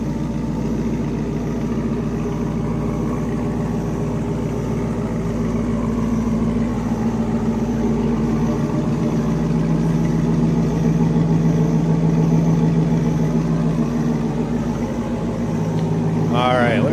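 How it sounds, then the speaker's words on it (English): A 2002 Chevrolet Camaro Z28 35th Anniversary Convertible idles with a deep, throaty exhaust, a steady low rumble that holds evenly throughout with a brief higher squeal near the end. "we have a nice deep throaty exhaust note on this one"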